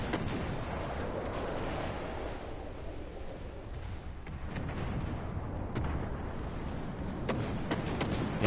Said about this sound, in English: I'm gonna get my secondaries ready to fire here